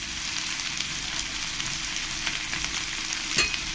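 Onions and green chillies frying in a pan for mushroom pulao, giving a steady, close sizzle with a brief stir or clink near the end and no talk.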